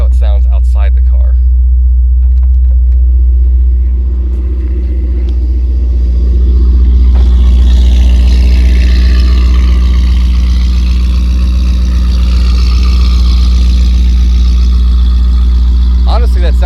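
A Chevrolet Corvette Z06 with an engine fault idles outside the car, a steady, loud, deep rumble with a faint lilt in its beat that holds throughout.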